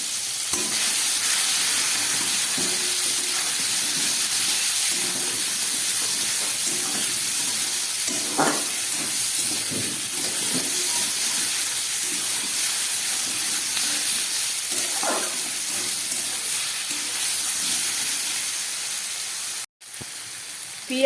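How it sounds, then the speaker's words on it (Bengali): Onion, potato, capsicum and tomato frying together in a pan for an egg curry, giving a steady close hiss and sizzle with a few faint clinks, and no talking. "একসঙ্গেই সব ভেজে দিচ্ছি।"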